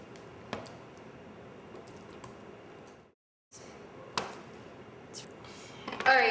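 A knife slices through tofu on a cutting board, making a few soft, scattered chops and taps in a quiet kitchen, with one brief silent gap.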